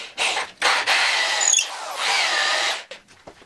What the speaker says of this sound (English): I'm going to do a mortise hole with my adjustable wood drill bit for the base.